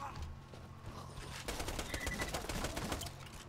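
Rapid gunfire rattles in the Borderlands 2 video game, a dense burst of repeated shots at moderate level mixed with game ambience.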